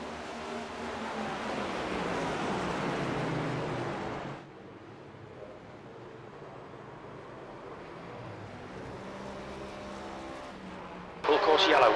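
Next Gen Cup stock cars roar around a sim racing track in a video game, a dense steady engine drone that drops sharply midway, then a sudden burst near the end, with voices talking over it.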